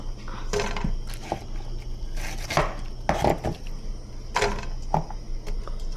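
Onions are chopped with a knife on a cutting board, about eight or nine quick, uneven thuds, close and clear, in a home kitchen.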